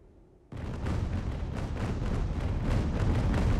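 Warship cannon fire in Ultimate Admiral: Age of Sail, a sudden loud broadside after a quiet start, then a dense rumbling barrage of booms continuing to the end.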